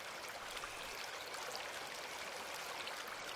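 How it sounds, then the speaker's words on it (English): A stream near Inunaki Tunnel rushes loudly and steadily, close by, a dense broadband wash of running water with no pauses and no voices. "That is some very loud, calmly running water."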